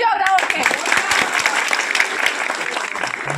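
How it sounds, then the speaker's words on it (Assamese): An audience at an election campaign event with Bihu song and dance claps in sustained applause, a dense, moderately loud patter of many hands that continues evenly throughout, with a voice briefly heard at the start. "হাত চাপৰি এটা বজাই দিয়ক ডাঙৰকৈ"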